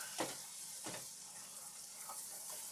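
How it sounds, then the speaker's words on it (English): Chicken and mushrooms sautéing in real butter in a pan, a faint steady sizzle broken by a few soft tossing strokes, with no talking. "Toss these a little bit."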